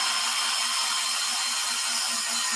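Power drill boring slowly into a wooden joist, a steady high-pitched whine with a faint low hum, continuous and close throughout with no talk.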